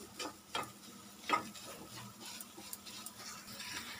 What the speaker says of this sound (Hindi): यहाँ पर हमने एक पैन में मावा करा है जो सॉफ्ट हो जाए, हमें इतना भूनना है